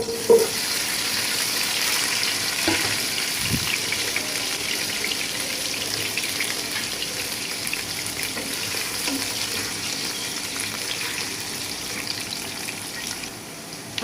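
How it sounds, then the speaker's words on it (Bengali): Potatoes fry in oil for a kacchi biryani, producing a constant, moderately loud bubbling sizzle with a few light knocks, steady from start to finish and with no talking. "এখন আমি আলু ভেজে নেব এই তেলে"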